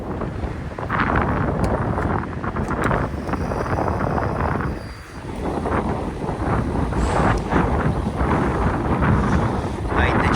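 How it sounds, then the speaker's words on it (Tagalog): Strong wind at a gas station pump in the USA buffets the microphone with a constant loud rush, easing briefly midway before gusting back up. "At lumalakas na yung hangin. Sobra lakas."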